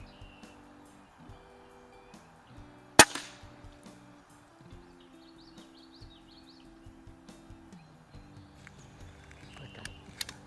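A Crosman 1701P .177 pellet pistol fires a single sharp, snappy shot outdoors at a 15-yard range, a lone crack standing out against quiet background with scattered bird chirps around it.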